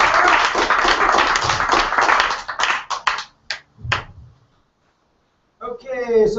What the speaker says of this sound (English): Let's have one more round of applause for Candace.